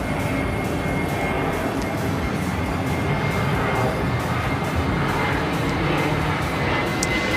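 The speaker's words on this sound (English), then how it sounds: "You just hear ATC, the sounds of the planes, and of course the live picture." Airport ambience with a steady, loud roar of airplane engines throughout, broadband and unbroken.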